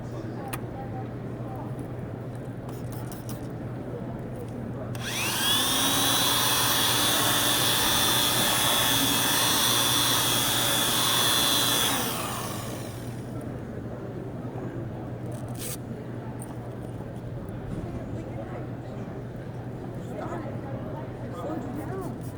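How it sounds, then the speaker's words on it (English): A variable speed power tool polishing scratches out of acrylic whines loudly at a steady high pitch for several seconds, then spins down, with quieter room noise before and after. "That's a variable speed tool. This tool comes with the speed control."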